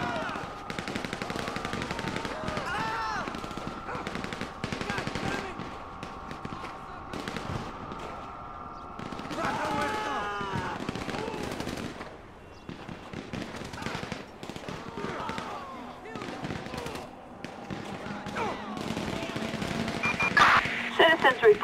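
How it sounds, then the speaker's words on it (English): Gunfire in the video game GTA 5 during a SWAT response to a police station attack, with repeated bursts of rapid automatic fire and single shots throughout, mixed with sirens and radio-like voices. "Gunfire reported."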